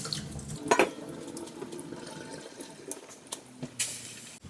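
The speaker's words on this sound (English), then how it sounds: "now it's time to drain off my pasta, which has been chilling in some cold water, and get that into the mix" Cooked pasta chilled in cold water is drained in a kitchen, with splashing water and a few clanks of a pot or colander, brief bursts over a quiet background.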